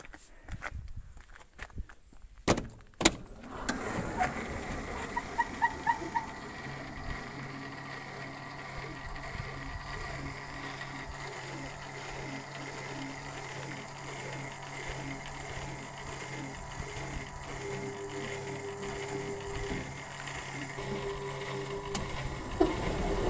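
An old washing machine motor starts with a couple of clunks, then hums and churns steadily as the drum spins up, a continuous mechanical drone with faint rhythmic knocking, close and without speech.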